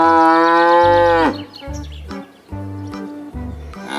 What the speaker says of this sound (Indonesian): di sini ada sapi perah